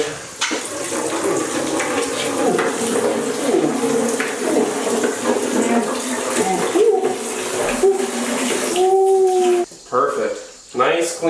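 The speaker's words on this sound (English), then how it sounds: "I'll wash my hands, wash this, wash the inside of the bowl, get all that nasty stuff out, dump it in here." Tap water runs and splashes while a snake's water bowl is washed out, a close, fluctuating stream with a few brief interruptions near the end and some faint voice sounds mixed in.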